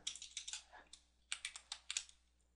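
Light, quick keystrokes on a computer keyboard come in two short bursts of clicking with a brief pause between, quiet and close with no voice.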